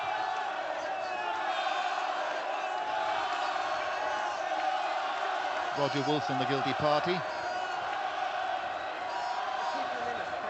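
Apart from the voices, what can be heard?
stadium crowd cheering at rugby match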